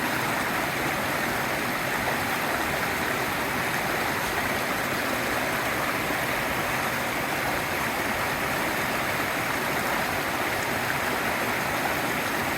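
Steady, loud rushing of a fast, deep mountain stream in Maine's 100 Mile Wilderness, a continuous broadband roar of water with no voices, unchanging throughout.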